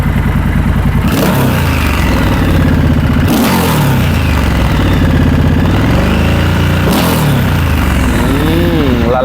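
A 2019 Triumph Scrambler 1200 XE motorcycle with stock exhaust revs up repeatedly, loud and close, with a deep throaty exhaust rising and falling between bursts.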